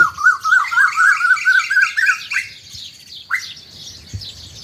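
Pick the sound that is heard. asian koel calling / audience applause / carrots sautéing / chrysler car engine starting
asian koel calling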